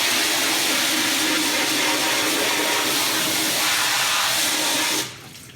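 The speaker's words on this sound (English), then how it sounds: "I'm going to just use a hose for now so we can see what that looks like." A garden hose sprays water hard against a screen printing screen during reclaiming, a loud continuous hiss and splatter close by that cuts off abruptly near the end.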